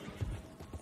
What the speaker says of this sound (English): Wild horses.